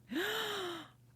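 A single sharp gasp, a quick rising intake of breath that trails off over about a second, close and clear with no other sound around it.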